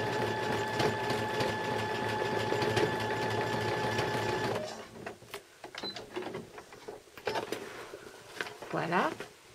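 Home sewing machine stitching along the outline of a round appliqué shape, a steady whirring motor hum for about four and a half seconds before it stops, followed by quieter handling noises and someone talking.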